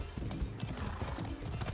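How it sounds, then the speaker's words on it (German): Rambock horse in the video game Far Cry 6, galloping hooves drumming in a fast, dense clip-clop rhythm under game sound, with a whinny, heard up close and fairly loud. "Das Rambock-Pferd."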